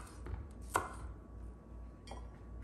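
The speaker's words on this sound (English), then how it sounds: "for these long skinny ones, I just like to chop off the end and sometimes just cut them in half and toss those in" A knife chopping long skinny spicy peppers on a cutting board, a few sharp, separate cuts at close range with quiet pauses between them.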